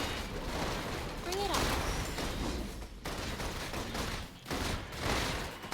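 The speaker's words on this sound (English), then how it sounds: "Requesting full suppression gunfire." Sustained video game gunfire during a squad shooter session, a dense continuous barrage with a brief whistling sweep, broken by a couple of short pauses, loud and close throughout.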